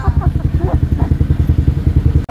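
A new 2024 Yamaha Sniper 155 motorcycle idles close by with a rapid, even putter of engine pulses and a brief clunk near the end.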